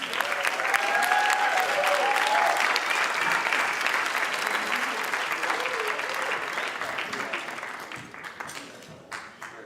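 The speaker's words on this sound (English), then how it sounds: "A round of applause for our juries." Sustained audience applause for the juries at the RAISE Summit, dense and loud throughout, slowly tapering off toward the end.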